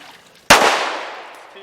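A single loud, sharp pistol shot from an FN 509M or Glock 19 fired after a water submersion test, with a long reverberant tail that fades slowly.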